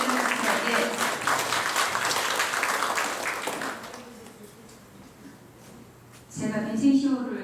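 An audience at a Vincentian training event applauds, a dense clapping wash with voices mixed in that drops away midway, leaving quieter room sound before louder talk resumes.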